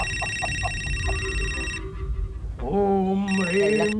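A telephone rings with repeated bright electronic trills close by, continuing through the first half, then someone speaks as the ringing returns briefly.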